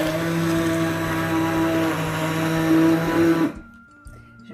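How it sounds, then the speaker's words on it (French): A blender whirs loudly, mixing tarama with chopped spring onion in a steady, sustained motor drone, then cuts off abruptly near the end, leaving quiet kitchen sounds. "Et donc là, on va commencer à mixer."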